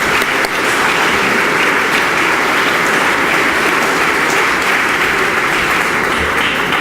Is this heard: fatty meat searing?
no